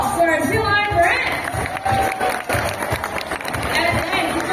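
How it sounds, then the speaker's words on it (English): Crowd applause at a sea lion show in an oceanarium, a dense stretch of clapping spread across the whole moment with chatter and voices mixed in. "How about a round of applause for our sea lion friends?"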